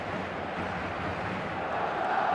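Football stadium crowd at a UEFA Champions League match between Real Madrid and Manchester City, a dense, steady roar of many voices filling the air continuously without pause.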